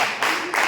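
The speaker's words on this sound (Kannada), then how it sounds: "ಒಂದು ಚಪ್ಪಾಳೆ ಕೊಟ್ಬಿಡಿ ಅವ್ರಿಗೆ" A short burst of hand clapping for someone in a small group talking about a beautician course, a few quick claps close by in under a second.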